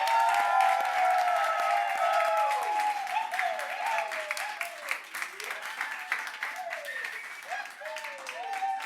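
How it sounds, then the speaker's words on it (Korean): A church congregation claps to welcome a pastor, steady applause running under a voice that speaks or sings over it and carries across the whole stretch. "우리 큰 박수로 좀 환영하도록 하겠습니다"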